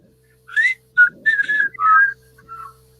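A person whistles a short melodic tune of several clear, bright notes in quick phrases, close by and alone, with no talking.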